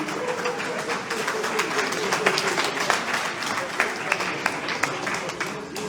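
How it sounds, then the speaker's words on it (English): Audience applause at a Lagos memorial gathering, a dense wash of clapping with some crowd murmur beneath and a few louder separate claps near the end. "A round of applause"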